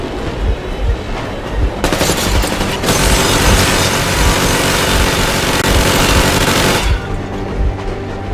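Sustained machine-gun warning fire in the Metro Exodus video game, a dense loud burst roaring for about five seconds over a rumbling idling engine, then cutting off to leave the engine alone.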